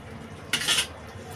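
A lid set down over a pan of coconut prawn curry on the stove gives one short metallic clatter and scrape, close and fairly loud against a quiet kitchen background.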